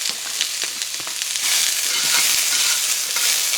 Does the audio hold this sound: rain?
no